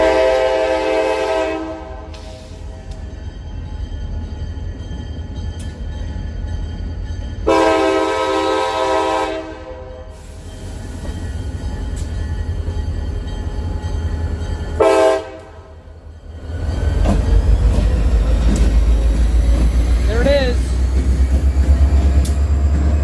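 A CSX EMD locomotive passes with several long horn blasts in three separate sounding groups, followed by a loud, steady rumble of the train rolling by nearby.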